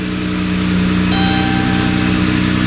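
A Dodge Caravan engine runs steadily after the key is turned on, a constant mid-pitched hum with a faint tonal whine, close and alone without talk.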